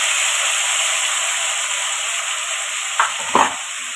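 Onion paste and tomato fry steadily in a pan for a Bengali catla fish curry, a close, continuous sizzle with a couple of brief stirring scrapes near the end and no talk.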